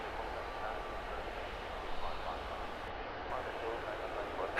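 A Ryanair Boeing 737 on its long landing roll-out, a steady broadband roar of engines and airframe held at an even level throughout, with a voice briefly talking over it.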